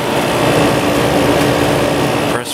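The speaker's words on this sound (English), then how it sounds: "Compressor sounds real good" A 1970s General Electric Slumberline 6,000 BTU window air conditioner runs on high with its compressor humming. The drone is loud, close and steady with a constant whirring tone, and a brief clunk comes at the very end.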